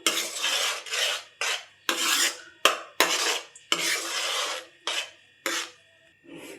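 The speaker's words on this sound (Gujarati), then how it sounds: "સરસ રીતે આપણે ધીમા ગેસે હલાવતું રહેવું." A spoon scrapes repeatedly through a thickening mango pulp mixture in a pan over a low gas flame, making rhythmic rasping strokes with short pauses and no talk.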